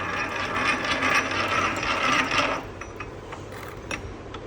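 A Duvcon Universal Digital Moisture Meter sample cup handle being hand-tightened, a rapid ratcheting clicking with gritty mechanical rasp, loud and close for about two and a half seconds, then fainter scattered clicks.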